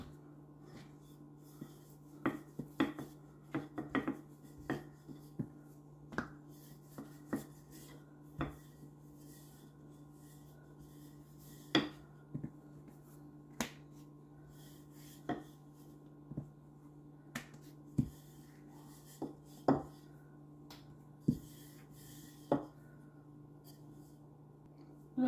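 Ragi millet roti dough on a floured surface being cut into shape with a cutter: sparse, sharp taps and scrapes in irregular rhythm, close and fairly quiet, over a steady low hum.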